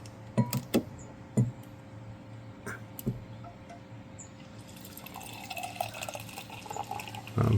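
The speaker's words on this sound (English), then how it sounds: "I'm pouring that pretty fast, and there is a head on it" Beer pours quickly from a Pinter home-brewing keg into a glass, starting with a few sharp knocks and drips, then a steady, fizzing liquid rush building near the end, close and fairly quiet.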